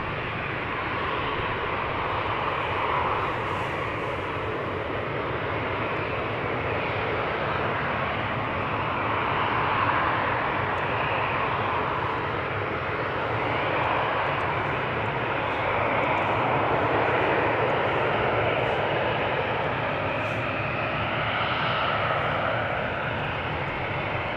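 A jet airliner departing from the Polderbaan runway at Amsterdam Schiphol Airport, a loud continuous engine roar that swells and holds for the whole stretch, heard alone without talk.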